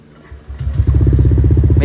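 A motorcycle engine cranks briefly and then catches, settling into a loud, close, steady putter with a low battery voltage noted beforehand.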